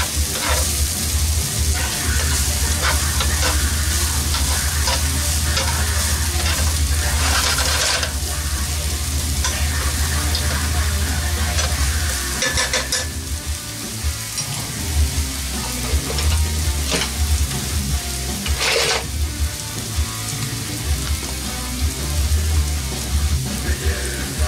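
Strozzapreti sauce ingredients cooking down in a pan, a steady broadband sizzle with intermittent scraping stirs and clacks, loud and close throughout, with a slight dip midway and no talking.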